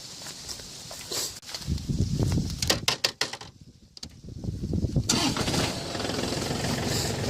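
John Deere 4410 tractor engine starting outdoors: a grinding crank sputters, catches and stumbles, then settles into a steady rumbling idle, with nearby footsteps and shuffling in between.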